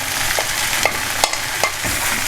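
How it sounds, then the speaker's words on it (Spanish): Yakisoba noodles with mushrooms being stirred in a hot pan, soft sizzling underneath and several separate scraping clacks of the utensil spaced irregularly, close and fairly loud. "removemos un poquito, apagamos el fuego ya"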